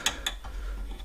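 Mechanical clicks from undoing the tensioner on an Etac Balder riser motor, two sharp ratcheting snaps close together followed by a softer click, near and alone.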